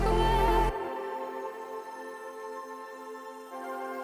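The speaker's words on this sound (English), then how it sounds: "So these are the higher synths over here." Bright, high synth layers from Omnisphere and Zebra in a trance production, sustained harmonic chords ringing alone after a louder full-mix opening, with no voices.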